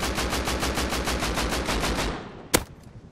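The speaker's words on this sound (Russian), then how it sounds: "Стрельба из пулемета." Rapid, evenly spaced bursts from a helicopter's side-mounted machine guns in the video game Rust fire continuously for about two seconds, then stop, followed by one sharp loud crack.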